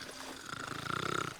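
A character snores in the Western shooter Call of Juarez Gunslinger: one long, rasping, rhythmic snore that swells in loudness, heard alone and close.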